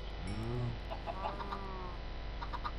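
Video-game chickens cluck in short, close bursts while being fed, a few overlapping calls over a steady background hum.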